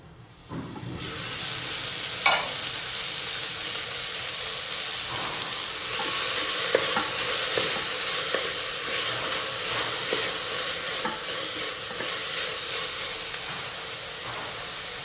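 Green peas are sautéed and stirred in a rice cooker pot, giving a steady bright sizzle and hiss with faint scraping stirs that grow a little louder partway through.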